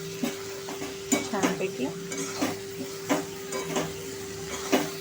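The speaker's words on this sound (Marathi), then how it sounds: "आणि आता आपण ह्याला मिक्स करायचं आहे" A spoon stirs okra and potato bhaji with lemon juice in a hot pan, with soft sizzling under repeated scraping strokes about once a second, and a voice briefly speaks.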